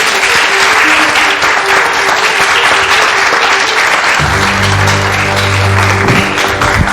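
Loud, sustained applause from a large crowd, steady clapping throughout with a low musical tone rising underneath near the end.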